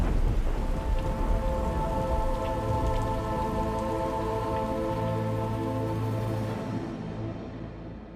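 Heavy rain pouring steadily with low rolling thunder rumbling underneath, a dense continuous hiss that fades out at the end.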